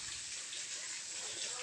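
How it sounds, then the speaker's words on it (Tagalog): Water pours steadily into a container that is filled to the brim and beginning to overflow, a soft, even rushing hiss that stays faint and constant throughout. "Maapaw na yung tubig."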